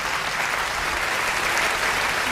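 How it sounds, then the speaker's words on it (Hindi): Audience applause rolls through a kavi sammelan poetry gathering, a sustained, uniform patter of many clapping hands at close, steady loudness with no speech over it. "एक बार ताली साहब बजा दो,"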